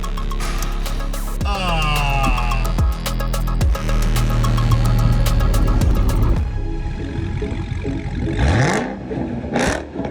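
A crashed Dodge Hellcat SRT engine under rebuild cranks several times in quick bursts on its first test start, then catches and runs roughly with clattering and revving, loud and close.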